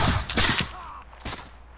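A rapid volley of gunshots rings out in the video game Mount & Blade: Fire and Sword as ranged troops fire on enemies coming out, several overlapping cracks followed by one more shot, loud and close.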